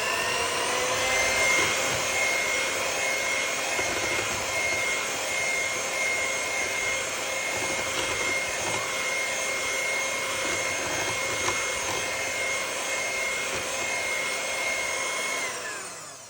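An electric mixer whirs steadily through banana bread batter, a continuous motorized hum with a sharp tonal whine that holds for about fifteen seconds, then winds down at the end.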